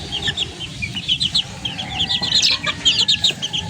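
Backyard chickens, young birds about one to two months old, clucking and chirping repeatedly at close range over a low background rumble, with no talk.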